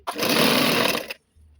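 Electric sewing machine stitching dress pants, one continuous burst of fast motor whirring and needle chatter lasting about a second, then stopping, close and loud with no talk.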